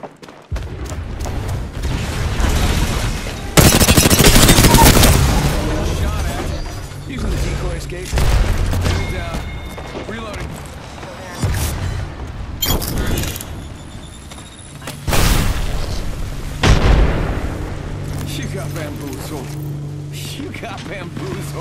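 Gunfire from the video game Apex Legends, with sharp bursts and impacts scattered through the span, moderately loud and mixed with game effects and spoken callouts.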